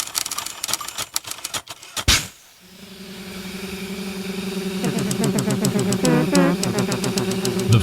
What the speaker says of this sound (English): It's the deliberate clacking of typewriters.